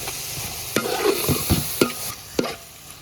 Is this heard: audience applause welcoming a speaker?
no